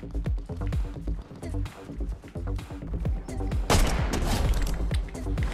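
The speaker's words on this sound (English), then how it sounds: "there's someone else shooting" Rapid gunfire from other players in the video game Fortnite crackles in dense, overlapping bursts of sharp shots, loud and close, with a heavier blast midway and continuous shooting throughout.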